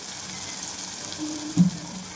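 Eggplant pieces fry in hot oil for a spiced lunch dish. A soft, steady sizzle runs throughout, with a brief louder clatter near the end as the pieces go in. No one speaks.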